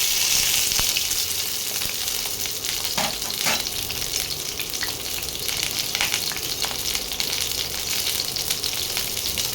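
Pointed gourd (potol) slices fry in hot oil in a pan, giving a steady, dense sizzle throughout with a few sharper crackles and spatters along the way, close and loud, with no talking.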